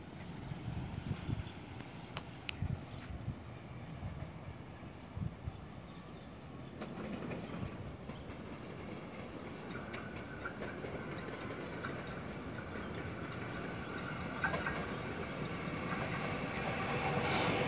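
An electric commuter train rumbles steadily past in Jakarta, wheels clattering over the rails, with a brief high squeal of wheels near the end.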